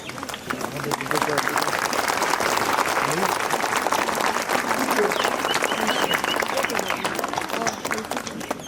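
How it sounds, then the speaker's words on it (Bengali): A school audience stands and claps for its staff, with dense, sustained applause from a large crowd filling the whole stretch at a steady loudness. "এদের জন্য একটু দাঁড়িয়ে হাততালি দিই আমরা"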